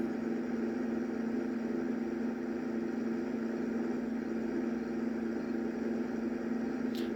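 A tractor engine idles in a farming video game, giving a quiet, steady mechanical hum that holds evenly without revving.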